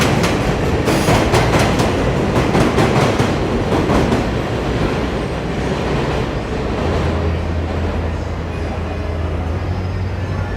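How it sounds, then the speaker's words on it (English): A New York City 7 subway train in Jackson Heights, Queens, rattles past loudly with rhythmic clickety-clack wheel beats on the elevated track, then fades into a lower steady rumble and a humming tone. "The noisy 7 train."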